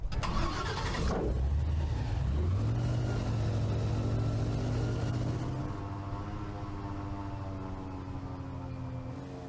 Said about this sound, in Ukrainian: Окей, стрибаємо на цей човен.